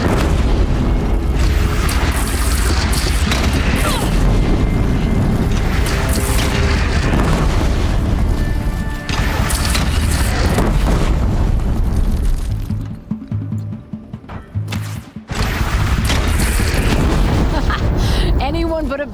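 Cannon fire in a video game battle against a bandit clan, repeated loud booms and blasts over a busy rumbling backdrop, with a brief quieter gap near the end and voices shouting amid the noise.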